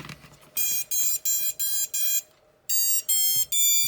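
Loud, shrill electronic beeps from an FPV drone just after its battery is plugged in, a run of five evenly spaced tones, a pause, then three more, close and clear over a quiet room.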